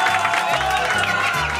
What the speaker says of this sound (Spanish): Venga, los aplausos,